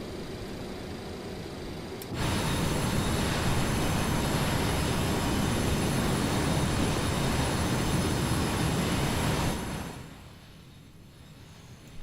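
Boeing 727 fitted with Super 27 engines in a flight simulator: a loud, steady jet roar with a thin high whine that starts abruptly, holds evenly, then drops to a quieter hum near the end.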